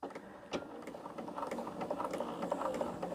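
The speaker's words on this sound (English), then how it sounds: "first stitch of a Bernina" A Bernina sewing machine stitches quilt pieces, a quiet, rapid mechanical whir and ticking with a few sharper clicks, close by and alone, without talk.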